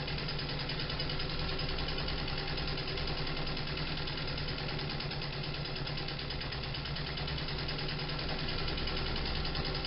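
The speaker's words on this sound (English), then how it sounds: "this one is a Treadel machine" An antique treadle sewing machine made by the Free Sewing Machine Company of Rockford, Illinois, runs continuously while free-motion quilting gingham fabric. It gives a dense, steady mechanical whir and clatter, close and fairly loud, with no talking over it.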